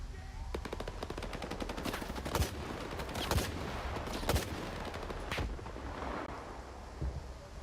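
Rapid automatic gunfire from S.T.A.L.K.E.R. 2, played on PS5, rattles steadily for several seconds, with a few louder single shots or impacts standing out over dense background battle noise.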